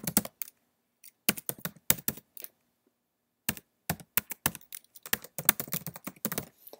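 Someone types an email address on a computer keyboard: bursts of crisp, close key taps separated by short pauses, getting denser toward the end, with no speech.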